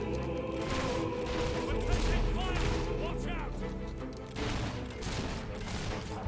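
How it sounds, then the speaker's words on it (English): Gunshots from the player's firearm in Fable 3, an Industrial Age setting, crack repeatedly over a dense, busy game soundtrack, with speech-like voices mixed in throughout. "Of course I'm using a gun."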